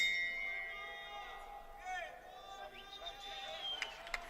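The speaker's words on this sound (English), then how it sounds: "I think it is the final bell." The final bell ends an amateur boxing bout, ringing as a few sharp metallic dings late on, faint behind crowd noise and commentary.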